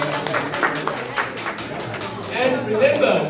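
An audience at a business forum claps in a scattered round of applause that fades out as a voice begins talking over the end.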